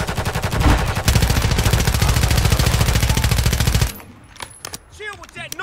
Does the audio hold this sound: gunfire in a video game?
yes